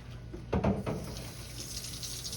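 Tap water runs over a metal ladle in a kitchen sink while grape jelly is being made, a brief splashing rinse of about half a second and fairly quiet, with no talking.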